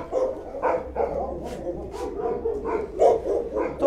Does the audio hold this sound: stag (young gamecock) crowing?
no